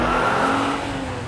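A race car engine revs in a short, loud, continuous whirring roar that stays steady throughout, with no voices.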